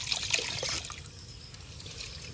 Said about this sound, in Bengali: তো ভালো করে আমি ধুয়ে নেব চাল ডালটা।